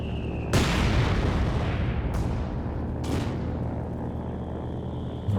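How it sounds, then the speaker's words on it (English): Mortar fire and shell impacts in Company of Heroes 2, a WWII strategy game match, heard as a dense, loud booming barrage with a heavy blast followed by two more sharp reports over a constant rumble. "Instead, he's gone for the mortar."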